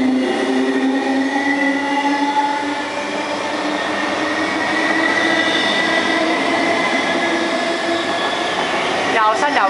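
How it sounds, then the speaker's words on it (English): A non-stop MTR train hauled by diesel locomotive 8002 passes through Sha Tin station, a steady loud rumble and rolling drone with faint wheel tones lasting throughout, close by on the platform. "A non-stop train is passing through the station."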